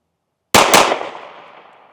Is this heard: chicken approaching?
no